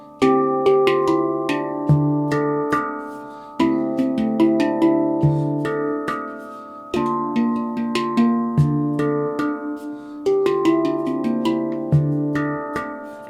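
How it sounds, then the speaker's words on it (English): A handpan played in flowing repeated phrases of ding, shoulder and harmonic notes, bright ringing metallic tones and soft harmonics overlapping as each struck note decays, close and clear. "Ding, shoulder, harmonic."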